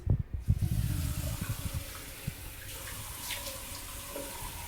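Tap water runs into a sink while someone wets their face before washing eyelash extensions, a steady close gush with a few splashy bursts at the start, then a softer continuous flow.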